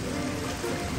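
Steady rain falls at a cattle stockyard during a storm, a dense, even hiss with no voices.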